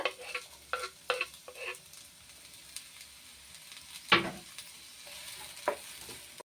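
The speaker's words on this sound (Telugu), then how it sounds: "ఇలా తరిగించుకున్న ఆనియన్స్ వేసేసుకోండి ఆయిల్లో వేసుకొని మంచిగా ఫ్రై చేసుకోవాలి" Chopped onions frying in oil for chicken keema kajjikayalu, with a soft steady sizzle under intermittent stirring scrapes and one louder clatter midway, close and fairly quiet, with no talking.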